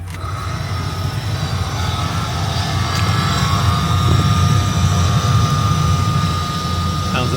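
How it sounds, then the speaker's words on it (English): A failing Dodge Ram blower motor fan runs steadily, giving a continuous low whir with a thin high whine above it, loud and close throughout with no talk. "You got whining noises when the fan's on."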